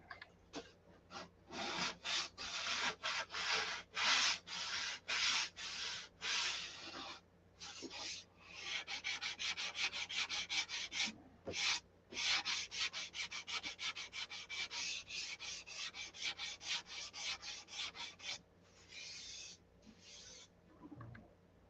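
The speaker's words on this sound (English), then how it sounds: "As long as I don't sand through it." A wooden piece sanded by hand, heard close up as long runs of quick, rhythmic back-and-forth rasping strokes with short pauses between bursts, no talk.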